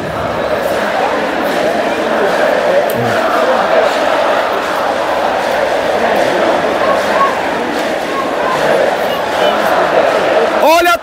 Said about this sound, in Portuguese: Olha a torcida que não arreda o pé do Barradão, meu amigo